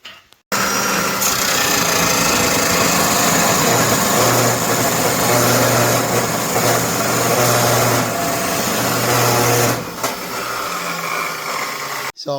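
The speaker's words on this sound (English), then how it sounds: "He's going to cut them in the chop saw here." A chop saw cuts rebar bars for a footing: a loud, steady grinding whine runs for about nine seconds, then stops and is followed by quieter noise.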